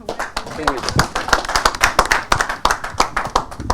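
Clapping from a small audience at a local community event, a handful of hands tapping in an uneven, fairly quick rhythm close by, with talk mixed in.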